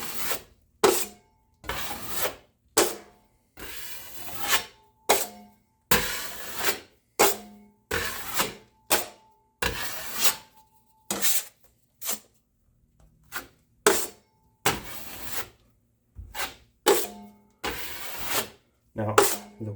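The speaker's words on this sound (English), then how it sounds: "And then just push that 90 into those holes." Rhythmic scraping as Sheetrock 90 joint compound is forced into holes in drywall with a knife, about twenty short back-and-forth strokes with brief pauses between them, close and alone.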